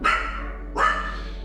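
A dog gives two sharp barks in quick succession, close and clear, each trailing off briefly.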